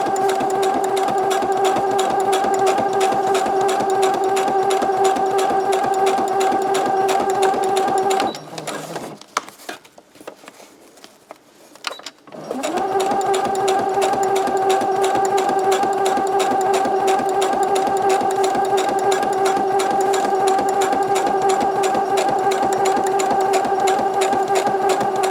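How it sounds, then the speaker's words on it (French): A sewing machine stitches through a thick fabric lunch bag with a loud, steady, rapid mechanical whir, stops for a few seconds, then starts again and runs on at the same even pace. "Et donc on coud jusqu'au bout."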